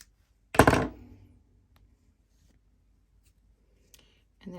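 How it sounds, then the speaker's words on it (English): Scissors cutting yarn during crochet, one sharp close snip followed by a short fading rustle, then quiet with a faint tap and a brief voice at the end. "Okay, I'm going to cut this yarn."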